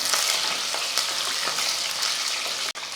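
Small shallots, garlic cloves and curry leaves sautéing in oil in a single pot, a continuous crackling sizzle with bursts of spatter and faint stirring, close and alone.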